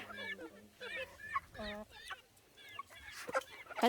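Chickens cluck and squawk in short bursts nearby, with a few louder calls toward the end and faint talk in the background.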